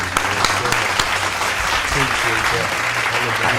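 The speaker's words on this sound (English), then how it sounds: "Hand clap for this guy, man." Hand clapping for a guest on a hip-hop podcast, steady applause-like clapping mixed with low background chatter and music-like hum.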